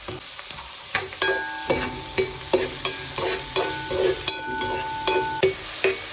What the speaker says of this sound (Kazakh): Пиязды жақсылап қызартып, қуырып аламыз, жиі араластырып тұру керек.